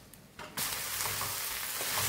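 Green papaya curry is stirred and dried out in a pan over a gas flame. A quiet start gives way to a sudden, loud, continuous sizzle and frying hiss that carries on to the end.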